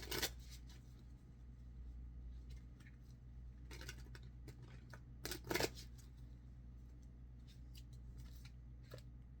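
Oracle cards from the Enchanted Map deck are shuffled and drawn by hand, soft papery riffles and slides in short bursts, quiet and close, with one brisker flurry partway through.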